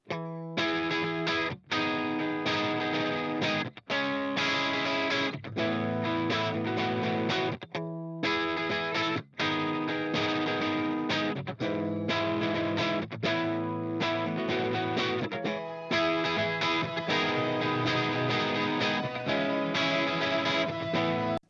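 A dense, saturated rock mix with gritty distorted electric guitar playing steadily throughout, loud and continuous with a few brief breaks.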